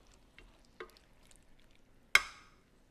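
Vegetables being stirred through a thickening sauce in a pan, faint soft sizzling under a few light scrapes and one sharp utensil clack near the end, then quiet.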